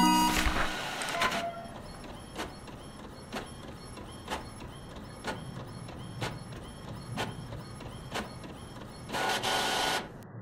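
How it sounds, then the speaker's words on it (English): A printer in the horror video game The Mortuary Assistant prints, giving a loud mechanical whir at the start, then a steady run of rhythmic clicks about once a second over a low hum, and a final whir. "Come on, you stupid printer."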